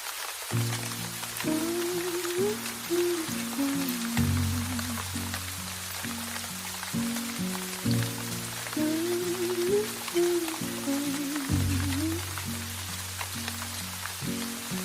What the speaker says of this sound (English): the quiet sound of rain